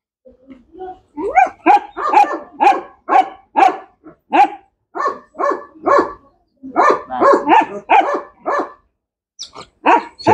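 A dog barks repeatedly and aggressively up close, in rapid bursts of sharp, gruff barks with brief pauses between volleys.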